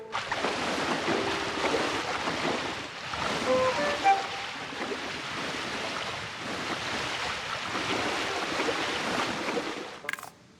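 Water spreads across the terrain in the cozy building game Tiny Glade as a continuous, moderately loud wash of surf-like rushing, briefly dipping midway, with a short soft tonal blip and a quick click near the end.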